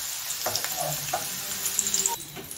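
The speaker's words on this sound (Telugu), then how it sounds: "ఆయిల్ హీట్ అయ్యాక ఆనియన్స్, 1 కప్ ఆఫ్ ఆనియన్స్," Chopped onions sizzle in hot oil in a pan, a bright continuous crackle with a few stirring scrapes and bursts, close and fairly quiet, no talking.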